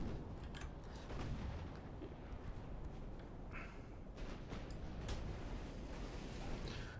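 Warship main batteries firing in a naval battle in Ultimate Admirals: Dreadnoughts, a dense, continuous rumble of booming cannon fire with scattered sharper blasts layered over a steady low roar, no talk.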